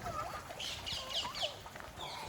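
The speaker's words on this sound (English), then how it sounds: "There's some turkeys." Several turkeys gobble and chatter nearby on a farm in quick, overlapping bursts, a busy flock call against a soft outdoor background.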